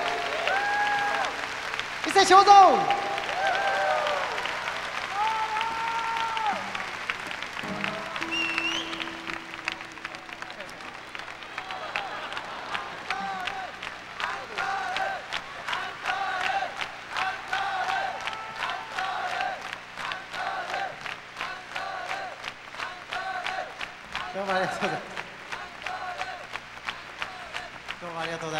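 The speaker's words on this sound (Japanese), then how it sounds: "拍手。" Concert audience at a 1992 folk show applauding in a long, dense wave of clapping with occasional cheers, while someone speaks over the crowd near the start.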